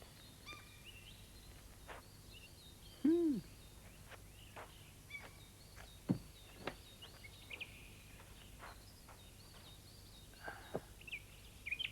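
A bird calls in a quiet forest with sparse, scattered chirps and one louder rising-falling call near the start, heard alone over faint background hiss.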